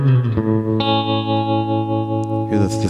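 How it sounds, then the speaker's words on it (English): An electric guitar played through an amp's tremolo and reverb rings out in long sustained chords that throb and pulse steadily, with a brief strum change near the start and another at the end, loud and close with no talking. "a lot of it has to do with this this tremolo that I have down and the reverb"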